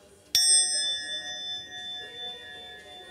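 A single sharp metallic strike on a KhV5 knife-steel blade, then a clear high ringing tone that lingers and slowly fades over a few seconds.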